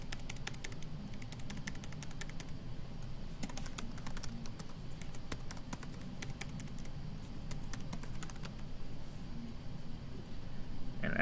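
Steady, moderately loud typing on a computer keyboard, a continuous patter of keystrokes over a low background hum, with no talking.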